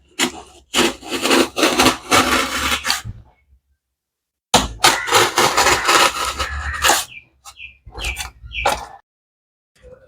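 Close, loud bursts of cutting and rasping on a Christmas crib model as the door and window openings are cut out, in two long runs separated by a silent pause, then a few shorter strokes.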